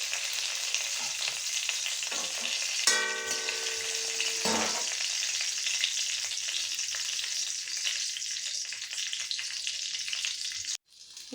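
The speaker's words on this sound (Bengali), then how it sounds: "সামান্য গরম হলেই আমি এই দুটো তেজপাতা আর একটা শুকনো লঙ্কা দিয়ে দিলাম।" Two bay leaves and a dried red chili frying in hot oil for Bengali shukto: a steady, close sizzle with a brief clattering stir early on, running unbroken until it cuts off at the end.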